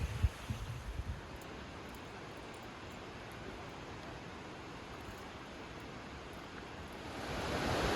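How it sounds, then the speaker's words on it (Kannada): A waterfall on a hiking trail near Seattle sounds as a faint, even, distant rush of water, steady throughout with a few small knocks at the start. "ಓ ಬಂತು ನೋಡಿ ಜಲಪಾತ ಭಾರಿ ಚಂದ ಇರುವಾಗುಂಟು"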